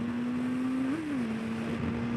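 A 2006 Honda Hornet 599 motorcycle riding along in a steady, close engine drone that holds an even pitch, rises briefly as the revs lift for a moment, then settles back down, with a constant wind rush over the top.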